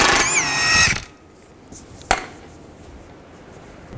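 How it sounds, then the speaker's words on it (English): A power tool with an 18mm socket spins a nut off a Chevrolet Equinox's inner tie rod, whining loudly and steadily for about a second before stopping, then one sharp clank in the quiet. "Use an 18mm socket, take this nut off."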